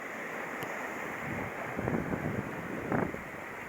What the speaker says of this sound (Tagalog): Kuha pa ang mga alon